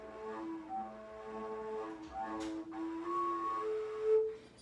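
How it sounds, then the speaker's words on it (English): A fujara played with its finger holes not fully covered, giving a breathy, unsteady tone with shifting overtones and leaking air, wavering pitch changes through a few seconds of continuous blowing. "if you don't cover all the holes correctly, then it'll sound like this"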